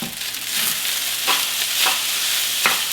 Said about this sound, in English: Now I'm going to add the rest of the rice and mix it all in.